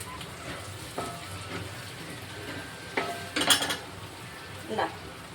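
Potato pieces frying in a pan with the flame just switched off, a soft background sizzle broken by scattered utensil scrapes and clinks against the pan, including a busier cluster of stirring.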